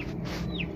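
A single aseel hen gives a short clucking call close by, brief and fairly loud over a steady outdoor background.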